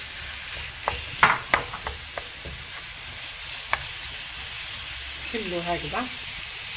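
Minced meat and onion fry in a pan with a soft continuous sizzle, scattered spatula knocks and scrapes as it is stirred, and a voice speaking briefly over the cooking.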